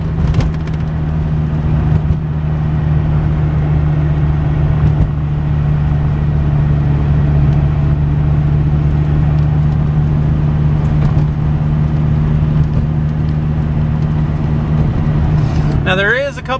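A repairable salvage 2003 Dodge Viper SRT-10 cruises in second gear at about 40 mph, its engine droning low and steady with road rumble filling the cabin, while someone talks over it.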